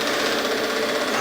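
A wood lathe turns at reduced speed while 600-grit abrasive mesh is applied to a recycled fencepost piece, giving a continuous, even, loud whirring hum throughout, with no talking.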